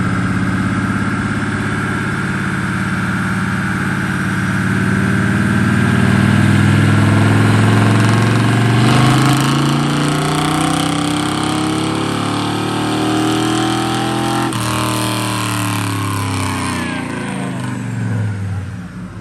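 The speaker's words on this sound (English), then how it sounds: "Here's dyno clips of my truck making 248 horsepower at the tires" A truck with a rebuilt junkyard engine running on a dynamometer, its loud steady drone rising and falling in pitch through a long pull, with no talk over it.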